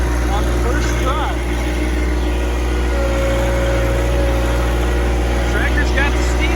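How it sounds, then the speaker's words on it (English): A John Deere 2025r compact tractor engine works under load in a backyard, a steady mid-pitched drone holding close and constant, with a brief higher whine partway through. "The tractor's got the steam to do it."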